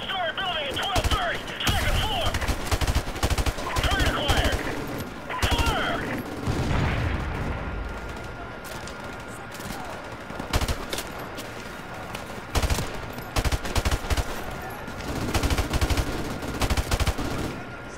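M16 rifle fire in Modern Warfare Remastered, loud close bursts of shots in several clusters separated by quieter stretches, with a player talking between the volleys.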